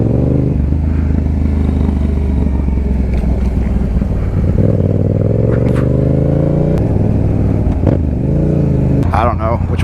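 2018 Yamaha MT-07 motorcycle on a ride, a loud engine with rising rev sweeps and gear changes, wind buffeting and brief clatters, while a person talks over it.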